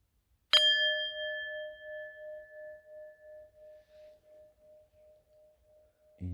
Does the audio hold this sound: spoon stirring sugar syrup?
no